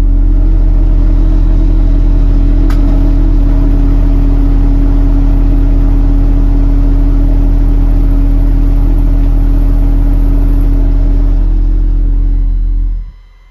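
A car engine fitted with a Headway Superbeast revs and holds at high, loud, steady speed for about twelve seconds, then cuts off abruptly into near silence.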